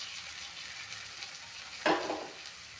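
A brinjal paratha fries in refined oil in a pan with a steady, close sizzle, and a sharper hiss swells briefly partway through. No one speaks.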